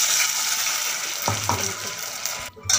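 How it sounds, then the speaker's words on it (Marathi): Tempering for rice kheer sizzles in a pan with a bright, steady frying hiss, broken by a few low spoon knocks and scrapes against the pan. "तर मी त्याची फोडणी घातली।"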